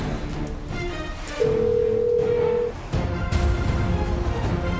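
A steady electronic telephone tone after a call is cut off, sounding for over a second amid background noise, with clicks and ambient sound before and after.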